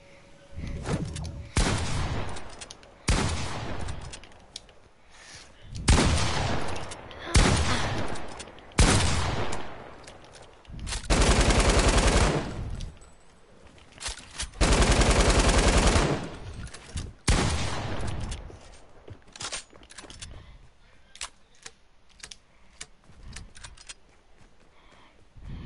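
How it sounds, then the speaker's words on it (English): Shotgun blasts in a video game one-on-one match ring out as a series of loud, separate booms spaced a second or two apart, some longer sustained bursts, with quiet gaps between. "I'm gonna see if I'm good with this shotgun"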